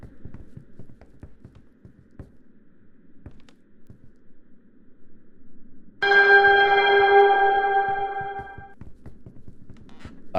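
Loud church-style bells ring out suddenly in the Ether One video game, a rich, layered peal that cuts in over quiet footsteps and holds steadily for a few seconds before fading.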